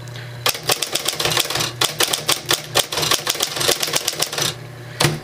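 A manual typewriter clatters close up: a rapid run of sharp mechanical clicks and clacks with brief pauses, plus a few heavier thunks of the mechanism.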